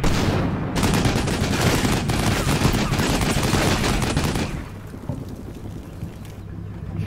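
Sustained .50 cal machine gun fire in Combat Mission, a dense, loud, continuous rattle of rapid shots for about four and a half seconds before dropping to quieter background battle noise.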